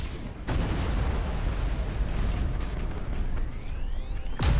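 An enemy warship explodes in Battlefleet Gothic Armada, a deep rumbling blast that fills the clip, with sharp booming bursts at the start and end.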